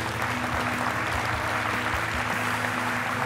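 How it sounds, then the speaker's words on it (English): A crowd at a Charolais junior cattle show applauds the kids with sustained, even clapping from many hands. It fills the space and carries a light undertone of voices throughout. "we'd like to give the kids a big round of applause for their participation"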